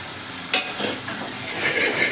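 Paneer frying and being stirred in a pan with onions, a close, steady sizzle broken by a sharp scrape of the spoon early on and softer stirring after.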